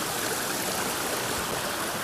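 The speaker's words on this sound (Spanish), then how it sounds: "una de las cascadas que hay. Ahí como baja todo al río" Waterfall pouring down into a river near a mountain lagoon in Soria, a steady, dense rushing roar of falling water, close and continuous with no voices.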